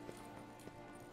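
Hoof clip-clop from Roach, a horse in a video game, a few soft uneven hoof hits at moderate distance over a steady background bed.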